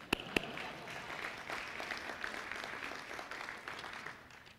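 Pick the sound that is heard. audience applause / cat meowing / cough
audience applause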